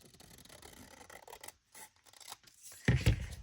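Scissors snip through scrap wrapping paper along a line in a few quiet, raspy cuts separated by brief pauses, the last cut crisper and louder.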